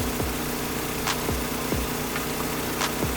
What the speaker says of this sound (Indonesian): Sebelah kiri adalah kompresor listrik, sedangkan yang sebelah kanan adalah kompresor bensin ya, atau engine ya